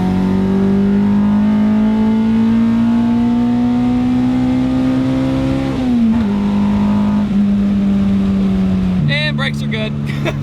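Honda Civic with an Integra Type R engine swap pulling hard in third gear, a loud close engine tone rising steadily before dropping as it shifts, with VTEC howl and wind noise throughout.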